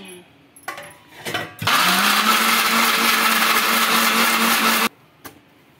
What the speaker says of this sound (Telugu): మిక్సీకి వేసుకుంటే ఇలా ఒక్కసారి రౌండ్ తిప్పుతుంది